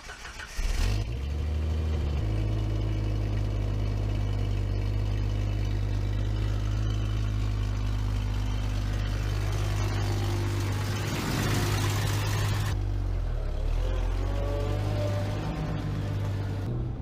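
A lifted 1999 Jeep TJ with longarm suspension and 8.8 rear axle drives along, its engine holding a steady loud low drone with a few revs and gear changes, heard from inside the cab.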